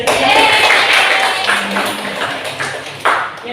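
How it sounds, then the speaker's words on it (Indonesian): A group of people clapping together in a class session: a short, loud burst of dense applause with a few sharper ringing hits that trails off within a few seconds. "Kasih tepuk tangan."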